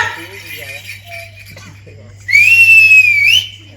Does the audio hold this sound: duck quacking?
no